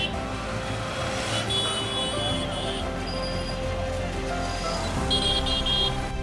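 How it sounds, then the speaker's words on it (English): Car horns blare in dense, stalled traffic at a Kinshasa street with no traffic lights, several overlapping honks and toots ringing over a constant loud rumble of engines. "A chorus of horns blows in a jarring cacophony of noise."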